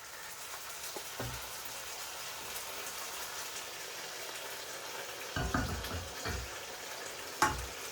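Hot base gravy, about two ladles' worth, goes into a pan for garlic chilli korai balti chicken tikka, making a soft steady sizzle with a few short splashes and clinks toward the end.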